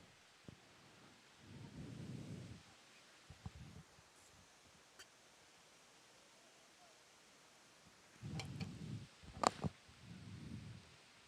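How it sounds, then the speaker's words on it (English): Thunder rumbles in low bursts during a heavy rainstorm in Miami, several rolling booms with crackling peaks over a steady hiss of rain, fairly distant and subdued. "Whoa. Thunder."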